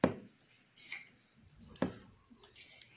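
A small spoon clinking as Nescafe instant coffee is measured out, a few sharp metallic taps and scrapes spaced apart, close and fairly quiet.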